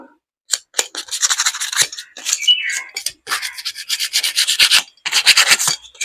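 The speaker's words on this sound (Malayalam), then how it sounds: "ഒന്ന് ഉരസി കൊടുക്കണം അപ്പോഴത്തേന് പാടൊക്കെ പെട്ടെന്ന് പിടിക്കാൻ പറ്റും" Sandpaper rubs a copper pipe clean before soldering, producing close, loud bursts of rapid scratchy back-and-forth strokes separated by brief pauses, with no talk.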